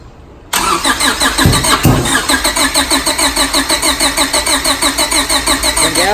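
A 1997 Honda Civic hatchback with a swapped H2B engine cranks briefly and fires up loud and close, then settles into a steady, lumpy idle with a rhythmic pulsing beat.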